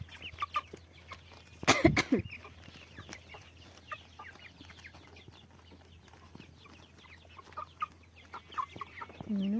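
Broiler chickens feeding on cabbage cluck and chatter softly in short scattered bursts, with one louder sharp noise close by near the start.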